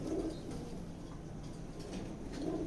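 Grizzle pigeons in a loft coo softly in low, rolling calls at the start and end, over a steady background murmur, with no talking.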